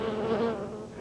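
Honeybees buzz close by in a steady, moderately loud droning hum over one short moment, with no voices.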